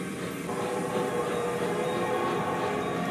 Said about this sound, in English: Then his ghost train arrives.